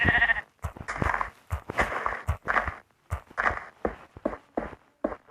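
Minecraft sheep bleat several times in quick succession, close and clear, with blocky game footsteps tapping between the calls.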